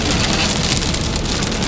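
Heavy rain and hail in a thunderstorm pound surfaces in a dense, steady roar that stays loud and constant for the whole moment, with no voices.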